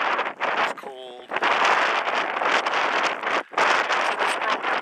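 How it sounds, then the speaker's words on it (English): Wet, cold wind blows at a remote coastal spot facing Antarctica, a steady loud roar buffeting the microphone with a brief lull midway. "And it's wet. And it's windy."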